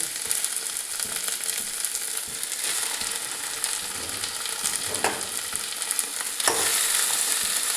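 Meat sizzles steadily as it fries in a pan, with spatula strokes stirring it through and a couple of sharper scraping pushes near the end, close and continuous with no talking.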